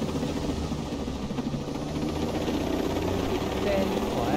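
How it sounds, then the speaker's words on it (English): A helicopter in the Ghost Recon Breakpoint video game flies with a steady, loud rotor thrum and engine whine that stays constant throughout, alone without talk. "We want to fly this helicopter. It's going to be a little noisy, as it should be in a helicopter."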